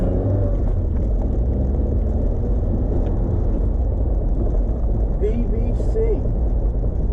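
A 1.8-litre MGF VVC sports car drives along with a steady low engine drone and road rumble that holds throughout, loud and close from inside the cabin.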